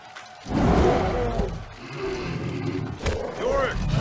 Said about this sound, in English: the game straight up crashing and the music getting stuck on a weird 3-second loop